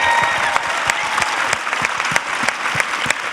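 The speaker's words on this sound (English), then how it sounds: "Please give a big round of applause to everybody that came out today." A crowd at a FLEXN dance show and justice panel event applauds, with a wash of steady clapping punctuated by louder, sharp individual claps near the microphone.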